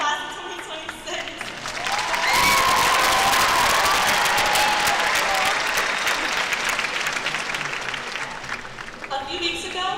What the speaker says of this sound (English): Can I have another applause for the class of 2026?